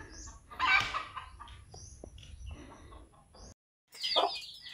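Chickens cluck in short, scattered bursts at close to moderate distance, quiet overall with brief pauses between calls.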